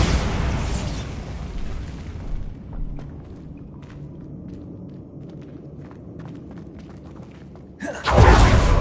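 A Bombarda explosion spell from a video game goes off as a loud, deep booming blast, followed by a quieter stretch of small ticks and clicks, then another heavy burst near the end.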